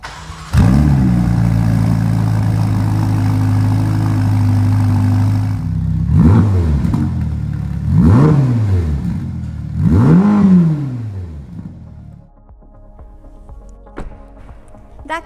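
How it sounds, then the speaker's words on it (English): Twin-turbocharged V8 of a 2023 Ferrari Roma, starting with a burst then idling, followed by three sharp, loud revs that rise and fall about two seconds apart before settling back to a quiet idle. "Let's hear what this twin turbocharged V8 sounds like."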